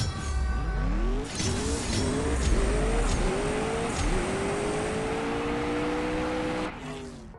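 A TVR Sagaris in CSR Racing 2 revs hard and accelerates through several quick gear changes, rising engine tones between shifts, with tire squeal and a drop at the end.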